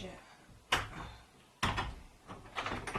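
A door of a cosy winter holiday cabin in the New Forest, UK opens with a sharp knock and clatter, then a second louder thud and rattling follow, close by.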